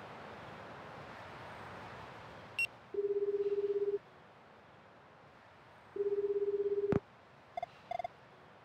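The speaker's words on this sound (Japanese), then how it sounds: "かなこさんに電話して確かめてみようよ。" Telephone dialing in a PSP mystery game: two steady one-second tones separated by a pause, with brief clicks and short beeps between them, over faint background hiss.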